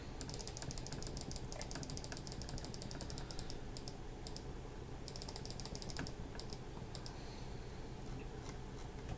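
Quick bursts of rapid mouse clicking, fired in fast trains while deleting in bulk, sound as crisp, faint ticks in clustered runs with short pauses, over a steady low background hum.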